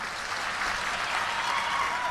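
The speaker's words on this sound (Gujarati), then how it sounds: "દેશની રાજનીતિમાં છવાઈ જનાર પોતાની નીતિઓના કારણે માનનીય આપણા સંયોજક અરવિંદ કેજરીવાલજી માટે એકવાર તાળીઓ થઈ જાય" Applause from a crowd at a local election booth workers' rally in Vadodara, Gujarat, a dense steady wash of clapping filling the whole moment at moderate level, with no one speaking over it.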